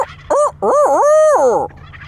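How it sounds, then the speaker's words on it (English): Merriam's wild turkey gobblers in Montana let out a loud, close gobble, a quick rattling burst followed by a longer warbling call, heard alone without talk. "Oh, look at those freaking like seven gobblers out there."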